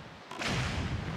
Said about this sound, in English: there's a lot of cannons here